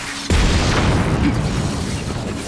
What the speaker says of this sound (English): Then I gave it a grenade launcher.